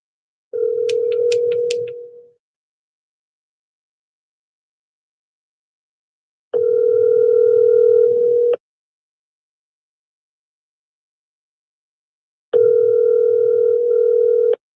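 A telephone tone sounds while a phone call is placed, three loud steady bursts of about two seconds each separated by long silent gaps, with no talk.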